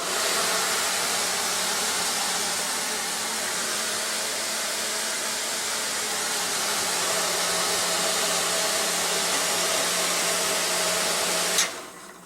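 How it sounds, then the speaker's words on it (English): Cheap, very loud bathroom exhaust fan in a Keystone Cougar fifth wheel trailer, a steady broadband roaring whoosh with a low hum running unbroken until it cuts off near the end. "Not real happy with the fan in the bathroom. It's kind of a cheap fan and very loud."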